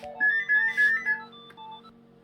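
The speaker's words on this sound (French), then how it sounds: "mon téléphone a sonné" A mobile phone rings indoors with a melodic ringtone, several bright repeated tone bursts that then trail into softer, quieter notes, with no talk over it.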